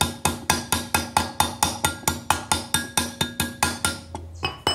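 A sledgehammer strikes a metal part clamped in a vise, about eighteen loud, evenly spaced ringing blows in a steady rhythm, close up, with no talk.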